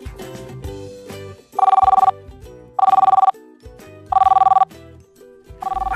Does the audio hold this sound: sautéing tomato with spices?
no